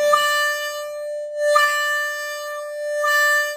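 Blues harmonica played solo with a hand-cupping wah-wah effect, three sustained tones each brightening quickly as the hands open, then fading slowly as they close too gradually, evenly spaced and close-up, with no talking.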